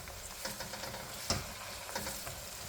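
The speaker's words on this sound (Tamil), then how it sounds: "மிச்சம் வைக்கிற கருவா, மிச்ச ஏலக்காய், கராம்பு, அதோட 4 பச்சை மிளகாய் எல்லாத்தையும் போட்டு நல்லா மிக்ஸ் பண்ணுவோம்." Cinnamon, cardamom, cloves and four green chillies fry in a pan for chicken biryani, giving a soft steady sizzle with scraping stirs and one sharp clack of a spoon against the pan.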